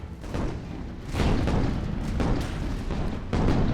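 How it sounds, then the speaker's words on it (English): Heavy artillery fire and explosions in the tank game Total Tank Simulator, a continuous barrage of loud booms and rumbling blasts with several sharp bursts and no talking. "artillery coming in on our enemy vehicles down here"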